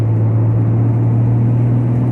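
A Toyota Supra Turbo accelerating on a slippery road gives a steady, loud engine drone with a strong low hum, heard from inside the car, without talk.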